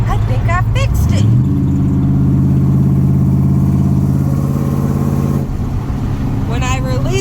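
A car engine, on a vehicle just treated for a sticky throttle, rises from idle into a sustained steady rev for several seconds as the gas is pressed, then drops back when released.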